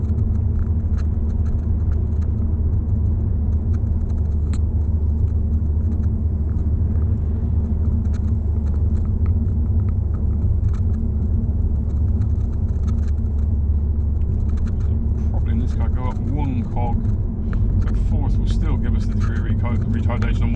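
A car with a double-clutch automated gearbox in dynamic mode drops two gears on a wide 30 mph road, its steady engine drone rising briefly near the end as engine braking holds it back, with someone talking throughout.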